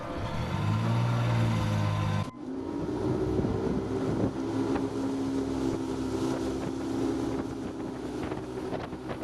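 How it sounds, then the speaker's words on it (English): A boat engine drones steadily and loudly, with wind buffeting the microphone; the engine pitch shifts as it revs up early on, on a harbor trip off Vancouver Island's Pacific Rim coast. "Quite a noisy engine."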